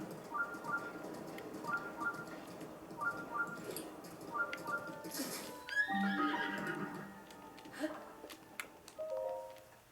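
Horse neighing in Zelda: Breath of the Wild, a run of repeated whinnies over a loud game ambience that ends in a louder, longer neigh near the close.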